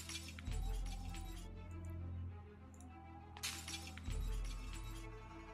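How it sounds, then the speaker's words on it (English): Two bursts of shattering, crunching glass as broken shards are cleared from a house window in the zombie survival game Project Zomboid, set over a constant low droning hum. "Might as well remove broken glass."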